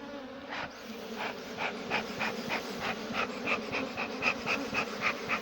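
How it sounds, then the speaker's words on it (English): Bees buzzing around a hive in a Jamaican apiary with a laying worker colony, a close, continuous hum with pulsing wingbeat tones rising and falling, no voices. "there's still bees here"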